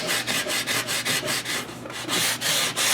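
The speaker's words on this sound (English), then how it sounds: "I'm just going to take this sanding pad. Just hit the ends of them real good." A sanding pad scrubs back and forth over guitar fret ends and fretboard edges on a kit guitar, a bright, rasping rhythm of quick strokes, close and steady with no voices.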